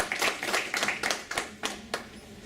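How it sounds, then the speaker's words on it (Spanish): A short burst of scattered clapping from a small group at a legal conference in Peru, hands slapping irregularly and thinning out toward the end. "recibamos un fuerte aplauso a cada autoridad"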